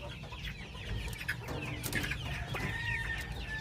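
Bamboo line hen clucking in a farm setting, with several soft, irregular clucks and calls over steady low background noise, close to the microphone.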